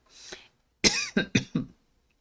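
A soft breath, then a close cough followed by three quick, sharp coughs in a row, each clearly separated.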